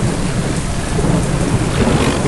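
Heavy rain pours steadily while a deep thunder rumble rolls underneath in the Indian Vehicle Simulator video game, loud and continuous with no voices.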